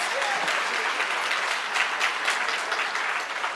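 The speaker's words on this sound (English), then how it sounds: "I think that deserves another round of applause." An audience gives another round of applause for colleagues at the JTA Golden Torch Award 2024 ceremony, dense even clapping from a large crowd sustained throughout at moderate volume.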